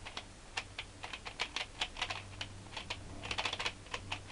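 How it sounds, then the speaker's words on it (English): Rapid light plastic clicks from turning a Shengshou Pyraminx puzzle with a ball bearing mechanism, a quick irregular patter of close, crisp ticks with no speech. "it clicks with the ball bearing mechanism that you can see right there"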